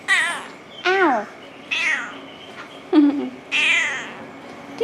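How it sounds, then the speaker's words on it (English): A cat meows repeatedly in the Philippines, five drawn-out, whiny cries spaced about a second apart, close and clear, with a few human voice sounds mixed in. "Do you guys hear the way it says meow?"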